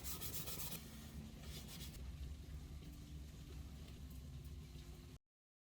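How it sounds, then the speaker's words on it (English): Steady, continuous rasping of sandpaper rubbed by hand back and forth over a wooden violin, close up, stopping abruptly near the end. "I am going to keep sanding just a little bit"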